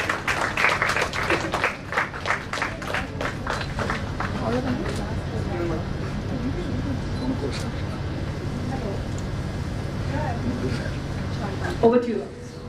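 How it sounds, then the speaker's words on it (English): Audience applause at a Women's Day celebration event, a dense sustained clapping that stays steady for several seconds with voices mixed in underneath. "A round of applause, please."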